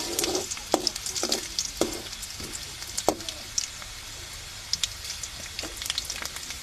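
Garlic paste frying in a pan, a soft continuous sizzle broken by sharp clicks and scrapes as it is stirred, close and fairly quiet, with no talking.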